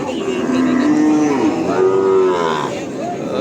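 Cattle bellowing at a rural cattle market in Charmonai, Barisal: loud, drawn-out moos from one or more nearby cows, with a second call overlapping, over a steady murmur of market background.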